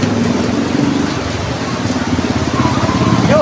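Heavy afternoon rain pours steadily as a dense, constant wash, with a low rumble of traffic beneath it and faint voices in the background.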